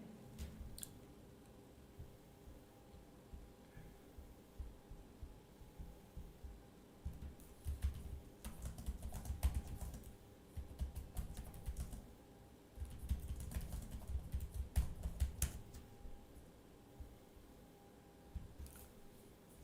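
Someone types code on a computer keyboard, a steady run of soft, close key clicks that thickens into faster bursts midway and then thins out again.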